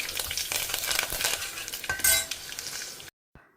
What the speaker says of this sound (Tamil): இப்போ நம்ம குழம்புக்கு தாளிச்சிக்கலாம். கடுகு, வெந்தயம் போட்டுண்டாச்சு